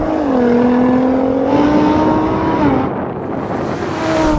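Lamborghini Huracan, Audi R8 and Nissan GT-R accelerating side by side in a drag race, a loud continuous engine roar with rising tones that dip and climb again through gear changes.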